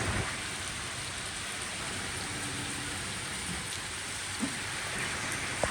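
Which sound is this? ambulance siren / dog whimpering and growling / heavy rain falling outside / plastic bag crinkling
heavy rain falling outside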